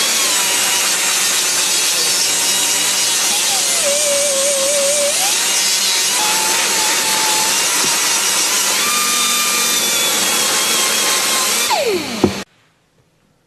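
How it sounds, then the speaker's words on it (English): Cast aluminum slingshot parts blasted with sharp, coarse aluminum oxide grit: a loud, continuous hissing blast with shifting pitch throughout, cutting off abruptly near the end. "So the sandblasting is done to discover impurities and pinholes."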